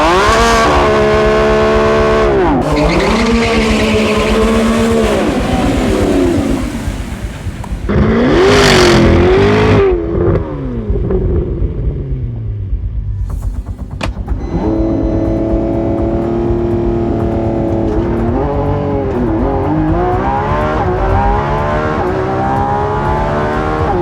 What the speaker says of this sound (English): ZR1 versus Revuelto down the drag strip.